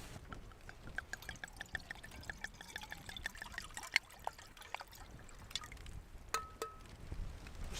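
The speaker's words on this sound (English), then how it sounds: "Let's have a glass of wine as well with it, shall we?" Wine trickles softly into a glass during solo winter mountain camping in a storm, a quiet, close pour with faint drips and no talk.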